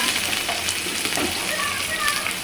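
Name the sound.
onions frying in hot oil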